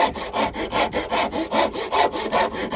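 Rhythmic back-and-forth strokes of a rasp draw filing a wooden pencil holder, about ten even scraping passes, close and steady with no talking.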